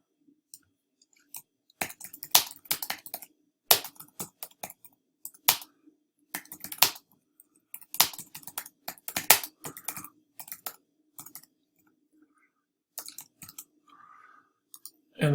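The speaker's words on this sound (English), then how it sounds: "I can type anything I want in here." Computer keys click in irregular, sparse bursts as someone types at close range into an infographics web tool, with short quiet gaps between keystrokes and no voices.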